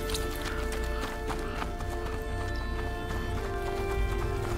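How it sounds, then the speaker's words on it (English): Horse hooves clip-clop at a gallop within A Plague Tale: Innocence, a steady rhythmic pounding that runs throughout, mixed with game music and ambience, with an occasional whinny. "The horse."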